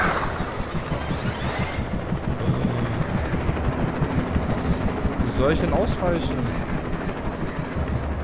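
In the video game Alan Wake, a helicopter pursuit keeps up a low, throbbing rotor drone under bursts of gunfire and engine noise, while someone talks over the din.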